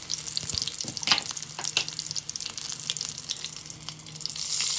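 Chopped tomatoes hitting hot oil with green chilli and curry leaves, a soft steady sizzle and crackle with scattered spits and stirring scrapes, fairly quiet and close.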